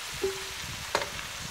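Beef frying and being stirred in a pan, with a brief scrape of the spoon and a soft sizzle under it, close and fairly quiet.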